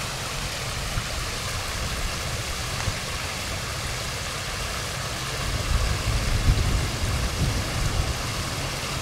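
A creek flows steadily in the open air beside a golf course, a continuous rushing wash of water with a low rumble that swells slightly near the end, with no voices.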